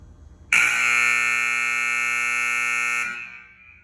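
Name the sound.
basketball scoreboard auto horn going off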